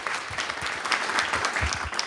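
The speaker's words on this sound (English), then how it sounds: "Can we have a closing round of applause for this amazing panel?" An audience gives a closing round of applause for a panel, dense steady clapping from a crowd indoors, loud and continuous throughout.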